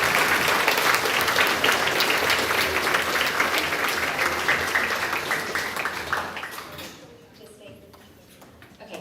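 Audience applause fills a school awards assembly for grades 4 to 6, loud and steady for about six seconds before thinning to scattered claps and murmuring.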